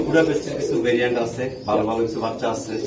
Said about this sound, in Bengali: মুজিবুর ভাই, আজকে যে আপনার লফটে আসলাম, কি কি কবুতর দেখাবেন আমাকে একটু জানান।